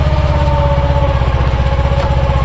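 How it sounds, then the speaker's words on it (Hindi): A Mahindra Yuvo 225 tractor runs steadily in fourth low gear while working a sugarcane field, its engine giving a loud, continuous low throb with a regular pulsing beat and no talk over it. "ये देखो भाइयों अब चौथे के लो में चल रहा है ट्रैक्टर जी।"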